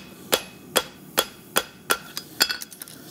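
A farrier hammers a heated horseshoe to bend and flatten it, sharp metallic hammer blows striking at a steady pace, six distinct hits followed by a quick flurry of lighter taps, close and clear.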